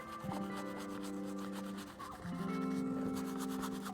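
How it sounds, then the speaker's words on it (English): A paintbrush loaded with titanium white oil paint scrubs into a canvas, giving a steady, close, scratchy rubbing texture that keeps going through the whole stretch with only a brief dip near the middle. A faint tonal hum sits underneath. "I'm actually scrubbing this into the canvas."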